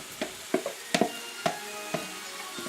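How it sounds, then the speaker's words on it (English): Butternut squash tumbles into a pan of soft, sweating onions, landing in a string of about eight distinct thuds and clatters over a low, steady sizzle. "So I'm going to go ahead and add the butternut squash."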